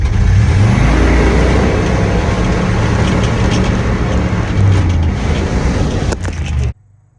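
An old truck engine revs hard and close, a loud, rough, sustained roar that holds for several seconds and then cuts off abruptly, leaving a faint low hum.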